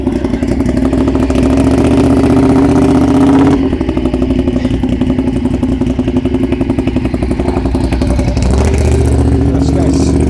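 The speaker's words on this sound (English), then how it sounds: "Let's chase this motorcycle." A loud motorcycle engine rumbles continuously on Bloor Street in a city at night, a dense throbbing roar that stays strong throughout, with talking heard over it.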